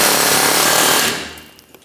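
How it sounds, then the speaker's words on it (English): Air hammer with an 18mm bit drives a wheel bearing out of the steering knuckle on a 2004-2008 Ford F-150, a loud rapid rattling burst up close that stops abruptly partway through, leaving a few faint clanks. "I'm using an air hammer with my 18mm and I'm going to start causing vibration, driving the wheel bearing out and away from our steering knuckle"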